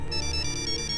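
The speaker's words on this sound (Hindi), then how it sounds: "किसका फोन है? पापा का फोन है।" A phone ringtone trills continuously with a fast pulsing warble, steady and moderately loud, with no talk over it.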